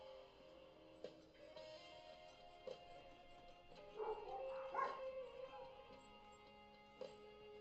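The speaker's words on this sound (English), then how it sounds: "that's a lot of barking." A dog barks in the background, several scattered yips and a short burst of barking in the middle, faint and somewhat distant, with a tonal hum underneath.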